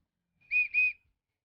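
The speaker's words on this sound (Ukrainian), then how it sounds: "Кожен відвідувач отримує у подарунок ось такий от свистунець." A clay whistle toy from the Opishne pottery museum gives two short, clear, high whistle blasts in quick succession, close and alone.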